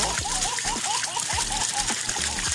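Strong rushing spray of water from a modified Aquaspeed 4000 water pump splashing continuously, with a voice faintly audible over the steady gush.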